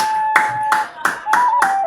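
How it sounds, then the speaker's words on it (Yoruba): Game show contestants clap for themselves in a few sharp, sparse claps, with a sustained tone underneath. "ẹ pàtẹ́wọ́ fúnra yín."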